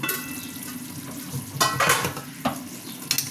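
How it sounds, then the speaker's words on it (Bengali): Chicken chaap frying in oil with garam masala while being stirred in a pot, a steady sizzle broken by a few louder scraping stirs near the end, close and alone with no talk. "গরম মশলা দিয়ে ভালো করে নাড়িয়ে আবার আমি ঢাকা দিয়ে দেবো।"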